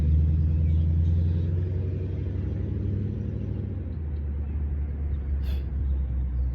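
A sports car engine gives a steady, loud low rumble that idles continuously and eases slightly partway through, with a brief faint high blip near the end and no talking.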